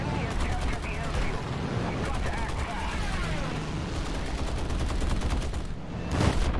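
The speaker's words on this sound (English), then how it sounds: "I'm taking fire from some guy on my 6" Sustained machine-gun fire from an enemy plane during an F6F Hellcat flight video game, rapid bursts rattling loudly and continuously over engine roar for several seconds.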